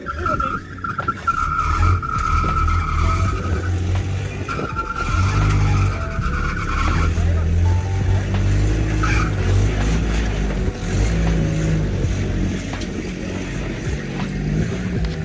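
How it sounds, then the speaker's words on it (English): Several cheap Porsche cars are dragged across a street with their brakes locked, giving a loud, continuous grinding scrape and tire skid over a rumbling engine that lasts throughout. "nobody buys three Porsches then proceeds to drag them across the street with locked brakes"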